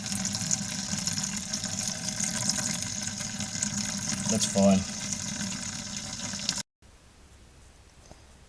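Wort runs steadily from a mash tun as first runnings drain during a cream ale brew day, a continuous trickling flow under brief speech that ends abruptly before a quieter stretch.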